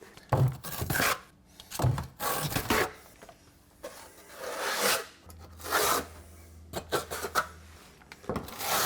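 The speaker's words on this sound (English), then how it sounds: "Now I'm gonna trowel it just a little flatter than usual" Notched trowel spreading thin-set tile adhesive with a 1/4 by 3/8 notch during a kitchen renovation, repeated rasping scrapes in uneven strokes, close and fairly loud, with a faint low hum partway through.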